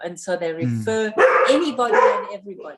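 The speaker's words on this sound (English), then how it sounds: "Apologies for my dogs." Several pet dogs bark and yip at home, short sharp barks mixed into and over a person talking nearby, fairly loud and close.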